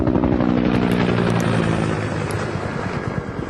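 A helicopter's rotor thumps in a fast, steady beat, loud and close, gradually easing slightly as it continues.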